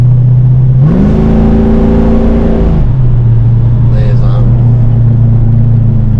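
Car engine with tuned carburettors revving on a lap: a steady loud idle-like drone rises into a strong, held rev for about two seconds, then drops back to a constant hum, close and dominant.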